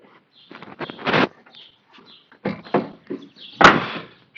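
Car door of a 2005 Scion xB shut with a solid thunk near the end, preceded by scattered handling clicks and rustles while the lock actuator is being tested; close and fairly loud, no talking.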